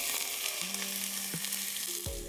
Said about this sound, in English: You should hear a sizzle.